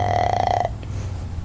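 A voice imitates a burp: one drawn-out, croaking belch-like sound lasting about half a second, close and fairly loud, followed by faint background noise.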